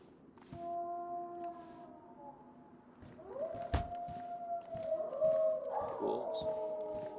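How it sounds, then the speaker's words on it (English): Wolves howling in the video game DayZ: several long, wavering howls overlap and rise close by, growing louder in the second half over a low ambient background. "Wolves."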